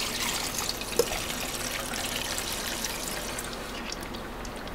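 Homemade blackcurrant liqueur is poured off through a viscose cloth, producing a steady, close trickling and splashing of liquid that carries on without a break and fades slightly toward the end.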